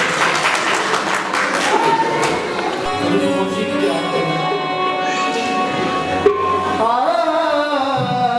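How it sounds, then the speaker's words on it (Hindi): An audience at an interfaith Christmas gathering in a press club applauds to welcome guests to the stage, steady clapping at first that gives way to music. "भरपूर तालियों में स्वागत कीजिएगा"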